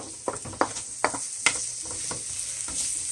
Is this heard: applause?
no